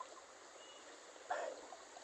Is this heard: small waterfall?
yes